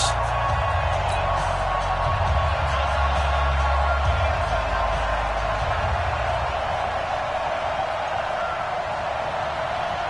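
A stadium crowd at an NFL football game between the Tennessee Titans and Chicago Bears keeps up a steady, dense roar of cheering and chatter for the whole stretch, with no single voice standing out.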